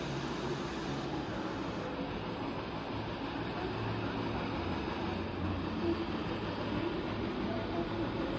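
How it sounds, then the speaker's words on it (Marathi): Steady low rumble of a train rolling into a station, a broad continuous roar with no clear breaks, fairly quiet and distant. "इथे काय आली आपली ट्रेन"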